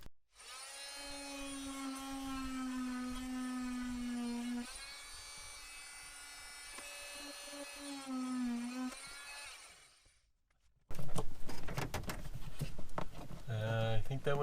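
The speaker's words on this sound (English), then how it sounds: "Just using a cheap oscillating tool, Harbor Freight brand." A cheap Harbor Freight oscillating tool cuts through a plastic flange during a GM evaporator core replacement, buzzing loudly and steadily for about ten seconds with shifting pitch, then stopping before clattering, rougher handling noises close by.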